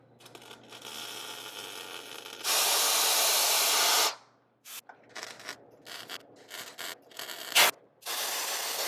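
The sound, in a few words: compressed air blowing to cool a fresh weld tack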